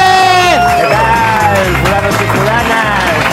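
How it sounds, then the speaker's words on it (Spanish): A live audience at a comedy show in a Madrid garage cheers and whoops loudly, crowd noise swelling over thumping music while voices shout throughout. "Fuerte el aplauso para David Suárez."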